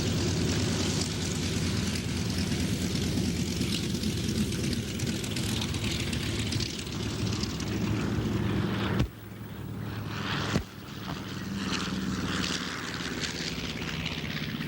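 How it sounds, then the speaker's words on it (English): An SB2C Helldiver propeller plane drones steadily overhead, its engine roar holding fairly constant, with a couple of sharp clicks near the end; no voices. "the world's only flying SB-2C Helldiver, in the air for the first time in many years"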